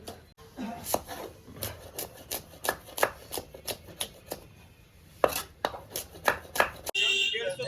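Knife chopping onions on a board for a cooking session, sharp irregular taps in quick bursts with short pauses, close and moderately loud, with faint talk and background voices around them.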